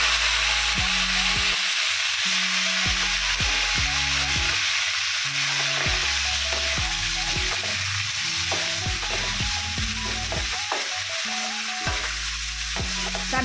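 Pork marinated in soy sauce, pepper and calamansi fries in oil in a pan for pork menudo, giving a loud, dense, unbroken sizzle that runs throughout with low background music beneath it.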